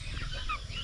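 Chickens cluck on a backyard poultry farm where chicks and turkeys are kept, a short close burst of fowl calls over a steady low rumble.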